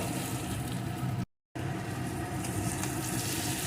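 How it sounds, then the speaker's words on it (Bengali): Fried soybean chunks and potato being sautéed in spice masala, producing a steady, close sizzle with a brief silent gap partway through, otherwise continuous and even, with no voices. "এখন এর ভিতরে দিয়ে দেবো ভেজে রাখা সয়াবিন আর আলু এখন মশলার সাথে এগুলোকেও আর একটু কষিয়ে নেব"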